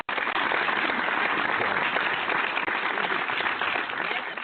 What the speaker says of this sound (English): Applaud her.